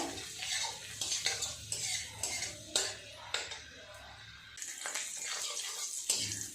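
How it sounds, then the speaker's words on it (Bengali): Chopped ginger and garlic are stirred and fried in oil in a pan, with a rhythmic run of close spatula scrapes and clinks over a soft sizzle, then a brief pause before the stirring resumes. "আদা রসুনটা একটুখানি নেড়ে চেড়ে ভেজে নেবো"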